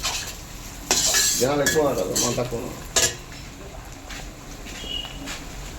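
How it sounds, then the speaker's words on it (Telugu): Ginger-garlic paste is stirred in a kadai over heat, the spoon scraping and clinking against the metal in several busy strokes with a light sizzle underneath, along with a brief murmur of voice. "మొత్తం అడుగంటకుండా కలిపుకోవాలి."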